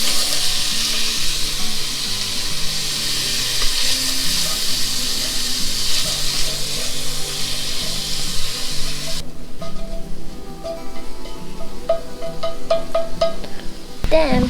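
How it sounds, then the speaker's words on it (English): Pork stir-fries in a pan with a loud, dense, continuous sizzle, followed by lighter clatter and crackling from the pan toward the end. "when the aroma starts to come out, you put pork. Oh, stir fry the pork until"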